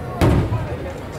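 A single firework bursts at a Fourth of July display at the Del Mar Fairgrounds, a loud broad boom with a short rumbling tail. Crowd murmur and nearby voices fill the background.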